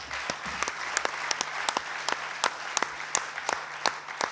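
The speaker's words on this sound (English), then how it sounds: "Let us give a big hand of applause to Mr." Audience applause at a Rule of Law Convention session in New Delhi: a steady wash of clapping with distinct sharp individual claps standing out, fairly close and sustained, without talk.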